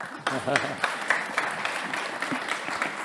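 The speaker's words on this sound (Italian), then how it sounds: "L'applauso." Audience applause, a dense patter of clapping that continues steadily, with a voice briefly audible at the start.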